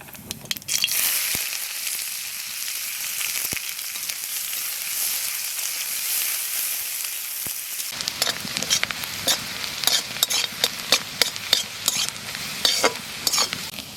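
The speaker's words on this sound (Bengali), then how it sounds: "পেঁয়াজ হাফ ভাজা হয়ে গেছে," Onions and cumin fry in mustard oil in a village-style pan, giving a steady, close sizzle. In the second half, repeated scraping stir strokes rattle against the pan in a quick, uneven rhythm.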